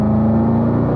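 A car lapping a race track under driver coaching, a loud steady engine drone held at constant pitch, close and continuous, with no talk over it.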